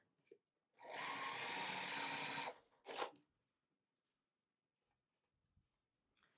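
Sewing machine stitching quilt seams on precut fabric, one close burst of rapid mechanical stitching lasting under two seconds, then a brief clack and quiet.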